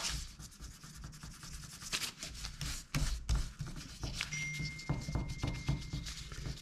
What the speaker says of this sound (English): Rub this vigorously and it should become almost opaque and invisible.